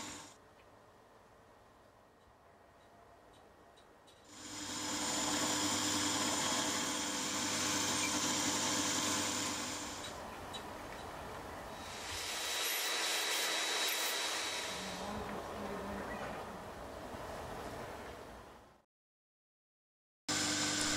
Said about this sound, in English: As I machine the steam chest external dimensions to suit the cylinder block